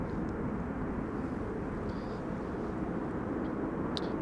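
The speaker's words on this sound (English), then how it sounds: "This is Air Canada flight 900. It is arriving from Montreal, Canada" Air Canada Boeing 787-8 Dreamliner arriving at Amsterdam Schiphol Airport in windy conditions, a faint, distant, steady engine rumble blended with wind noise, with a few brief high clicks and no talking.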